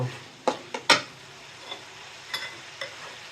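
Grated coconut being sautéed in a pan, a few sharp scraping knocks of a spatula near the start, then a soft sizzle with sparse stirring taps, no speech.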